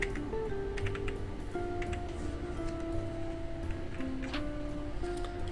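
Keys clatter on a computer keyboard as a mobile number is typed, a run of quick close clicks in short bursts against a steady background hum.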